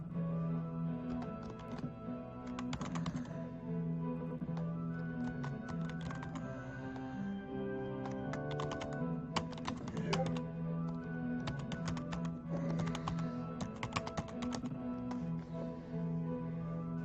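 Fast computer keyboard typing clatters in irregular bursts of key taps over a steady low electronic hum, fairly faint and close, with no talk.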